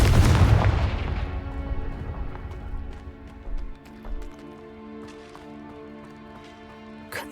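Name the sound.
Confringo explosion spell in a Harry Potter video game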